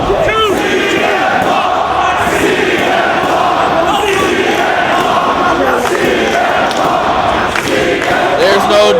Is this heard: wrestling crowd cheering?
yes